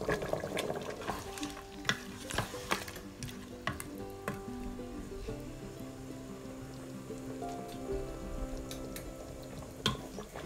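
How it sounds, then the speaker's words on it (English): Potatoes sizzle and fry in an Instant Pot, a steady close crackle with stirring clatter and occasional louder scrapes throughout. "Add potato and cook."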